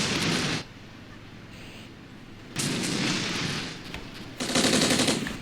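Gunfire in the Armored Brigade war game, with loud bursts of rapid automatic fire and heavy shots in two long volleys separated by a quieter stretch of low rumble.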